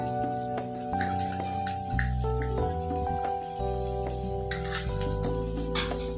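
Ginger garlic paste sizzles as it is stirred into frying masala for hotel-style okra, a steady close sizzle with spoon scraping over a constant kitchen hum and some tonal background music.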